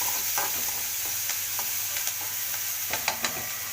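Chopped onions sauté in a pan, stirred until golden, giving a steady, dense sizzle with scattered scraping stir clicks throughout, close and unbroken, with no voices.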